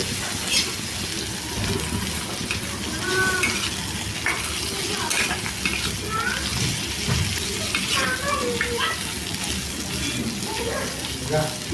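Boiled chickpeas stirred into a sizzling tempering for a gugillu snack, with a continuous wet frying hiss under scraping spoon strokes and faint clinks.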